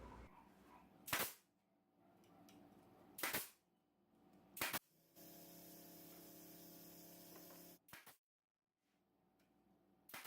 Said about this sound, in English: I'll apply some glue and drive a couple of 1-inch nails.